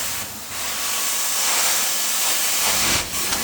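A carpet cleaning machine rinsing old, trashed commercial carpet: a continuous loud spraying, sucking hiss with slight surges, briefly dipping and swelling again near the end.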